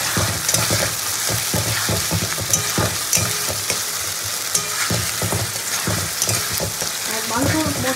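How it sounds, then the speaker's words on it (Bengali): Ground spice paste and onions with a little sugar sautéed in a pan, a dense continuous sizzle and crackle with repeated scraping and knocking of the spatula as the mixture is stirred hard, close and fairly loud. "মশলা দিয়ে পেঁয়াজে খুব ভালো করে কষিয়ে নেব।"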